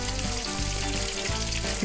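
Cheese pies fry in butter in a pan, a dense continuous sizzle close up with no talking over it.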